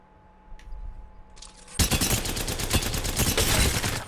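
Hip fire from the Hemlock gun in the Apex Legends video game: after a few faint clicks, a loud, continuous burst of rapid gunfire runs to the end without pause.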